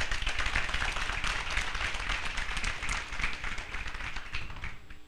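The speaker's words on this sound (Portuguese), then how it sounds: "Palmas para a CGPMI." A room full of people applauds the CGPMI team at a government presentation, steady dense clapping that holds at an even level for several seconds without talk.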